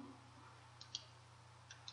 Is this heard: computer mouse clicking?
yes